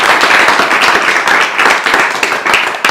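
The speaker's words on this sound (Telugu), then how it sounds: "సో ఒకసారి నాని క్లాప్స్ గట్టి కొట్టారు" Hands clapping loudly in a fast, uneven burst for about three seconds, close and energetic, from children at an orphanage.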